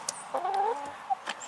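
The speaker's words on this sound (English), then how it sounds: "this chicken's gonna jump on my camera" A chicken clucks close by in a travel trailer being winterized, a few short rising clucks and a warbling call over a quiet room.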